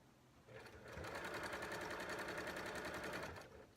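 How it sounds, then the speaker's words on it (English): A sewing machine runs quilt block seams in one steady burst, its fast needle chatter rising after a brief start, holding a rapid even rhythm, then stopping, close and alone. "I'm going to sew these the same as I sew everything else."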